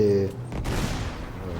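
Gunfire in the video game Uncharted 3 comes as a quick burst of shots followed by a noisy rumble that fades, heard under a voice.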